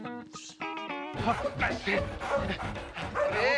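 A dog barks and whimpers in a comedy scene, with lively voices and background music throughout.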